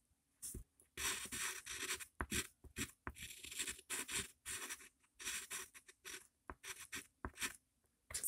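Pencil or pen scratches across paper in bursts of drawing strokes, close and fairly quiet, with short pauses between strokes and no talk.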